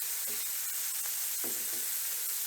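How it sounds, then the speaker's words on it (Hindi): Chicken cubes fry in a pan with a steady, soft sizzle and hiss, broken by a few low clicks and scrapes of stirring, close and quiet with no talking. "और चिकन को हम बहुत अच्छे से फ्राई कर लेंगे ताकि चिकन का कलर बिल्कुल चेंज हो जाए।"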